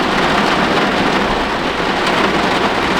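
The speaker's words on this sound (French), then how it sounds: "là c'est vraiment le déluge, ça ne s'arrête pas. Tout le temps il y a des éclairs" Heavy rain pours down steadily on a campsite tent during a thunderstorm, a dense, loud, continuous wash of water with low rumbling underneath and no pauses.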